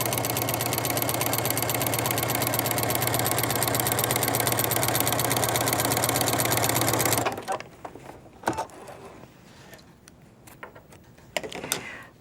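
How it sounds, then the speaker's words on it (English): A sewing machine stitches a quarter-inch seam across the top of a fabric pocket layered with batting, a steady fast mechanical whir for about seven seconds that stops abruptly, followed by quiet handling clicks and rustles. "Simply sew a 1/4-inch seam across the top of the pocket."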